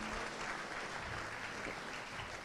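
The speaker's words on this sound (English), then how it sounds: "Let's do a big round of applause to all our winners" An audience applauds winners at an awards evening honouring the top 25 immigrants in the Maritimes, a steady, dense wash of clapping with no voices over it.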